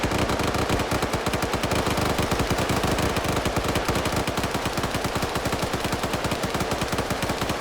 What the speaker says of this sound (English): Coda's gunfire is drowning out Cheese's gunfire. I think he's at a PKM